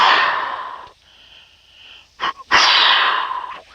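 Grunt and wheeze deer call blown on a MAD MD407 caller, imitating a dominant buck: a long breathy hiss, a quieter pause with a thin tone, two short grunts, then another loud sustained wheeze, close and alone.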